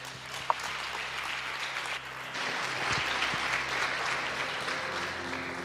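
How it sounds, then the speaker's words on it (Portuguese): Church congregation clapping at a Portuguese-language service, a steady, moderately quiet wash of applause that swells slightly after a brief lull, with a sharp single clap near the start. "Aplauda o Senhor."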